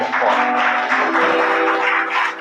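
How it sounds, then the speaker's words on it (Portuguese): A church congregation claps together, a sustained wash of hand claps alongside steady sustained musical tones. "Vamos aplaudir o nome dele bem"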